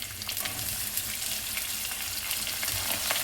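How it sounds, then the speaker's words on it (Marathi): Chopped onions are dropped into a pan of hot oil with green chillies, a steady close sizzle and crackle with no pause for the whole stretch. "आता मी त्यात चिरलेले कांदे टाकते"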